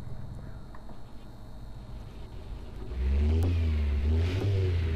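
An older-model car in the City Car Driving simulator starts up, its engine catching at about three seconds and then holding a loud, steady low rumble with a brief rev, following quieter background hum.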